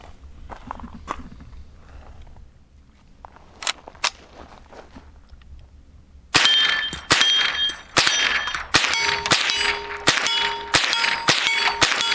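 Rimfire shots from a Savage Model 64 rifle ring a steel target about 50 yards out: a series of sharp metallic clangs and dings with lingering ring, following quieter handling noise at first.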